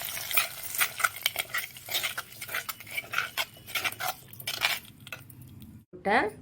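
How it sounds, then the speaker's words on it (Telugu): A spoon scraping and clinking against a pot as fried tempering is mixed into a dish, in rapid repeated strokes with a light sizzle beneath, ending in a brief pause and a short rattle. "తాలింపు దీంట్లో కలిపేసుకోవటం"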